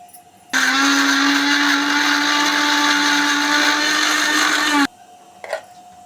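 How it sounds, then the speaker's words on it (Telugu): A mixer grinder blending spice paste with a little water whirs loudly for about four seconds, a steady high-pitched motor roar that starts and stops abruptly, then quiet. "ఇవన్నీ మిక్సీ పట్టాలి కొద్దిగా వాటర్ వేసుకొని పట్టుకుందాం"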